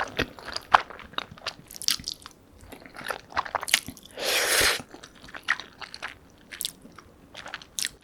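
Buldak fried noodles topped with corn cheese are eaten close to the mic, with crisp irregular bites, crunches and moist chewing, plus a short louder rustle midway and no talk.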